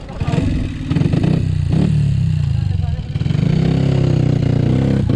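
A motorcycle engine revs loudly and close up, rising and settling in steady throttle surges with a rough mechanical drone throughout, in a village setting with jockeys preparing to ride.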